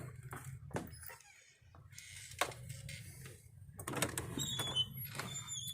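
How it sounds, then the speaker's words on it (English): Doors being opened on a trail, with scattered clunks, latch clicks and sliding scrapes spread out over several seconds against quiet background noise. "let me open the doors here"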